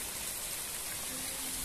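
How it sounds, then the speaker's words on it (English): Steady rain falls outside a holiday caravan at a UK coastal holiday park in Berwick, a continuous even hiss of drops on the surface, fairly quiet and with no voices. "I can't go outside because it's raining"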